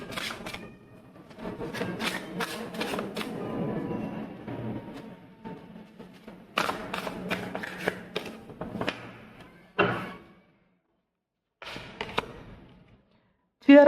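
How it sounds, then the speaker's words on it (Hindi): Tarot cards shuffled and drawn, bursts of papery rustling, flicks and soft taps in several spells separated by quiet gaps, close and fairly faint. "हम एक कार्ड निकालेंगे, यूनिवर्स की क्या एडवाइस है आपके लिए।"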